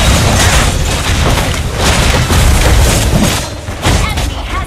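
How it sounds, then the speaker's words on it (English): A booming in-game explosion as a turret is destroyed in Mobile Legends, heavy rumbling blasts and clatter filling several seconds loudly, with a brief announcer-style voice mixed in. "Our turret has been destroyed."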